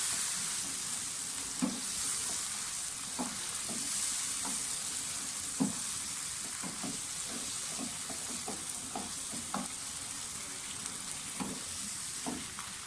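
Boiled lobia beans being stir-fried in a pan of masala, a steady close sizzle with repeated soft scraping knocks of a spoon stirring at an irregular rhythm.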